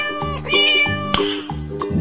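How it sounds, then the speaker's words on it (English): A cat meows clearly and close by, a bright drawn-out call over a bouncy rhythmic background beat. "cat,"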